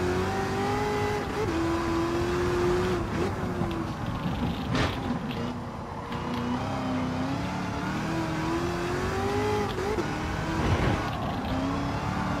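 A DeLorean drives in Gran Turismo with a continuous engine drone that rises and dips gently in pitch throughout, with no one talking.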